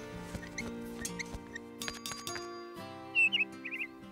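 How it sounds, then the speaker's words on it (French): Short, high chirps and quick trilling tweets from a blue bird in the animated series Horseland break through near the end, over a background of sustained tones and soft clicks. "J'adore t'entendre gazouiller."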